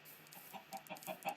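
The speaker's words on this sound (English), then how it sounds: "And then I'll put the chickens in there and we call it a day." Chickens in a Minecraft modpack video game clucking in a quick run of short, bright game-sound clucks, close and clear with no talk.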